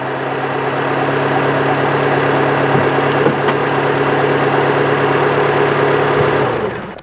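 A Renault Scénic MK1 engine runs steadily at idle, a loud continuous mechanical drone with a low hum and faint knocking, holding for about seven seconds before easing off at the end.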